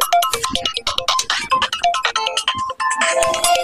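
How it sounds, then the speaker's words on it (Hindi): Mobile phone ringtone playing loud and close, a busy rapid electronic melody of chirpy, bouncing tones that carries on without pause, with no voices over it. "मोबाइल तो बाजत का।"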